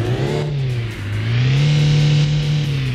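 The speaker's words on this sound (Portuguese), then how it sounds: "Vamos acelerar que a gente já dá aquele grau." Car engine in the City Car Driving game, revving loud and steady, dipping briefly and then climbing in pitch as it accelerates, heard alone without talk.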